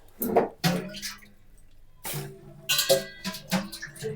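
Rice is washed by hand under tap water, with splashes and swishing of grains and water in bursts separated by short pauses, close and fairly quiet.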